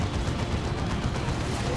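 Autocannon fire from Chaos Terminators rattles through a Dawn of War 2 battle as a dense, continuous barrage of overlapping gunfire and explosions. It stays loud and unbroken throughout.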